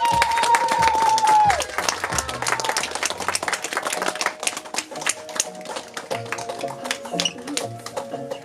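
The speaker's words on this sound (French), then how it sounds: "Acclamez les mariés." A theatre audience bursts into dense, sustained applause with scattered cheers for the newlyweds in a stage wedding scene, the clapping following a sliding music tone at the start and continuing steadily throughout.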